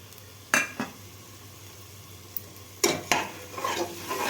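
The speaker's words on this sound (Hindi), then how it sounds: "अब इनको भी इसके साथ में भूनना है 1 से 2 मिनट" Crushed almonds and cashews are stirred and roasted in a hot pan for a pulav. Soft sizzling runs throughout, broken by a few sharp scrapes of a spoon against the pan.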